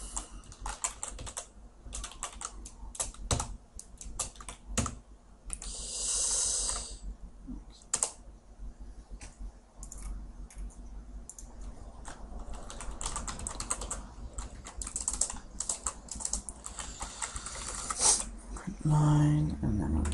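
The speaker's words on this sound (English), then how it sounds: "So I'm going to type it out now." Java code typed on a computer keyboard, with rapid bursts of close key clicks and clatter running throughout and a voice talking now and then.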